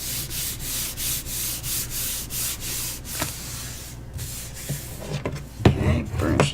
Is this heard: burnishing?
yes